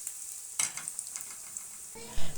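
Hot oil sizzles steadily with a sudden louder crackle as cumin seeds drop in for tempering, a few light clinks, and a deeper clatter near the end.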